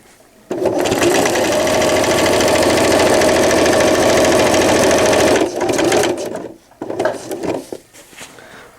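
A sewing machine runs steadily for about five seconds, stitching velcro (aplix) onto a cloth diaper, then stops and restarts in brief bursts as the needle is repositioned. The hum is close and loud, with no talking.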